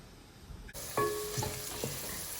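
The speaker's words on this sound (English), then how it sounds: "I'll go and stir the sauce" A pot of tomato sauce with onions is stirred, a spoon scraping and knocking a few times against the pot over a soft bubbling simmer, close and quiet.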